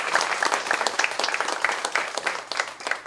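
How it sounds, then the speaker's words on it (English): A seated audience applauds a filmmaker at a screening and discussion of a documentary. The clapping is dense and steady, with many hands at once, and lasts the full few seconds with no speech over it. "Can we give the actual filmmaker another round of applause?"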